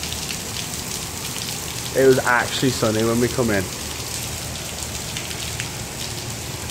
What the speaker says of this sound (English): It was absolutely pissing it down a second ago.